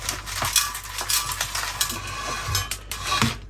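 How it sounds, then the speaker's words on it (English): Ordinary bonsai potting mix being worked into a pot around a cotoneaster, heard as steady gritty scraping and crunching in repeated close strokes. "all I need to do now is get some soil in, work the soil in"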